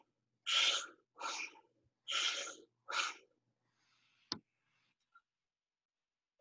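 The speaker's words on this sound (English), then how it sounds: "So what do I mean by deep, rapid breaths?" A person demonstrates deep, rapid breathing with four loud, close, breathy inhale-exhale bursts in quick succession, then near silence broken by a sharp click.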